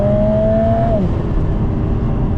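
A Lotus Emira with a 2.0-litre turbocharged engine revs loudly and close by, the pitch climbing steadily before it is backed off, leaving a lower rumbling engine note that carries on to the end.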